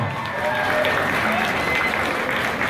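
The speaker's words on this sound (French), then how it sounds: "On les applaudit bien fort, s'il vous plaît." Audience applause at an anime convention cosplay contest results ceremony, a steady dense wash of many hands clapping throughout, fairly loud and continuous with a faint crowd murmur beneath.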